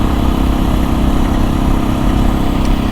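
A motorcycle engine runs steadily under a rider on the move, a loud, constant mid-pitched drone with a smooth, even rumble across the whole stretch and no voices.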